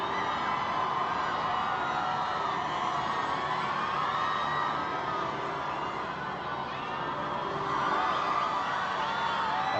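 Broad, continuous roar of large crowds cheering and whooping along the royal wedding route near Westminster Abbey, dense and distant-sounding with no single voice standing out.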